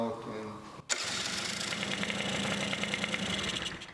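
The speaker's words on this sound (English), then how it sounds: "I can start the engine." A small scooter engine sputters for a moment, then catches near 1 second and settles into a steady, buzzy idle close to the microphone.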